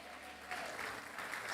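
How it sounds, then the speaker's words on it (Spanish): A church congregation applauds during a pastor's sermon, a soft, distant wash of clapping that swells slightly and continues steadily. "Si es para Dios ese aplauso, déselo de verdad."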